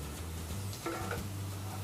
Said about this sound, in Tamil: தேங்காய் துருவலையும் சேர்த்துட்டு நல்லா பிரட்டி விட்ருங்க.